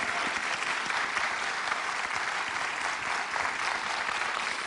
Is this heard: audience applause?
yes